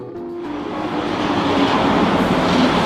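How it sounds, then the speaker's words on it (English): A Montreal metro train pulls into the station, its loud rumble and rail noise rising steadily as it approaches and filling the platform. "wait here for a minute for the metro to come"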